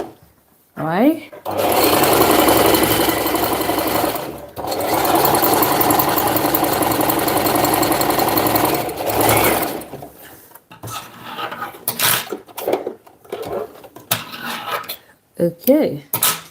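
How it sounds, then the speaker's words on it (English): An overlock sewing machine stitches fabric in two long, loud, steady runs of fast mechanical whirring, separated by a short pause, then stops; a person talks over the final stretch amid light handling clatter. "now that we are done overlocking this up"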